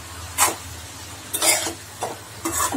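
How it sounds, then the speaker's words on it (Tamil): Carrot, bean and cabbage stir-fry with salt gets stirred in a pan, four short scraping strokes with a soft sizzle between them, close and fairly loud, no talking. "சேர்த்துட்டு இதை ஒரு கிளறு கிளறிக்கோங்க."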